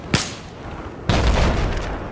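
Two heavy blasts from Battlefield 4 tank fire destroying a transport vehicle: a short sharp bang, then a louder booming impact that rumbles and sustains with debris-like noise.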